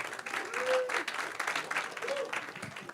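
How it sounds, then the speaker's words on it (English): Audience applause for the speaker crew at a DisruptHR event in Columbus, Ohio, a steady, moderately faint wash of clapping from a crowd, with a couple of voices calling out over it. "All right, let's give them a round of applause."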